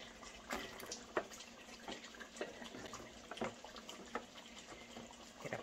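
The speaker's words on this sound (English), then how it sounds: "I'm just going to pour about a cup of hot water." About a cup of hot water poured into a pan holding leftover seasoning from marinated goat meat for Jamaican curry, a faint continuous splashing trickle with small drip-like taps, close and quiet.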